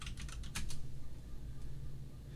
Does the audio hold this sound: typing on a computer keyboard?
yes